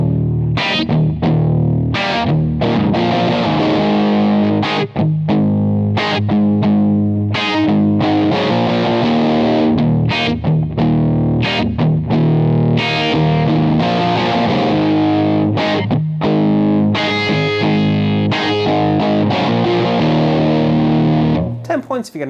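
Electric guitar through a DSM & Humboldt Dumblifier overdrive pedal plays a rock riff, with choppy distorted chords and single notes cut by brief stops, loud and up close with no talking.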